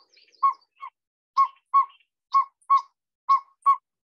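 Pygmy owl calls, Pacific and mountain types: a series of short, clear, whistled toots, singly and in pairs, spaced roughly half a second to a second apart, close and distinct against silence.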